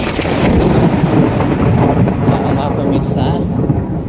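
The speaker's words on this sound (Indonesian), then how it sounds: "petir menyambar-nyambar pemirsa" Thunder during a storm at Tasik Titiwangsa makes a loud, continuous, heavy rumble with rain, while a voice speaks briefly over it.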